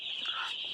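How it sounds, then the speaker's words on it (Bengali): A flock of three-day-old broiler chicks on a farm gives off a dense, continuous high peeping chorus, close and steady, with no one speaking. "আমাদের ব্রয়লার মুরগির বয়স আজকে 3 দিন চলতেছে।"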